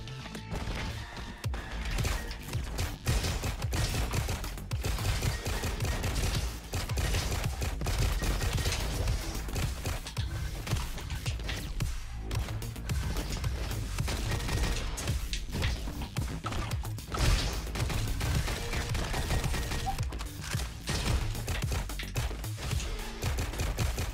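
Shotgun fire in the video game RoboQuest, blasts and impacts coming in a dense, continuous barrage of crashing, thudding game combat sounds, loud and close throughout with no voice over it.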